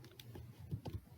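Quiet, close typing on a laptop or desktop computer keyboard, with a few soft irregular key clicks and thumps against a faint background.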